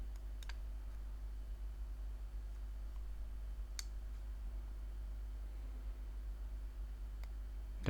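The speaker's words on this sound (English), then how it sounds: "you can simply try to click and hold this button one more time" Button on a SoundPeats Air 4 Pro earbud pressed and held: a few faint, isolated clicks over a steady low hum, with no talking.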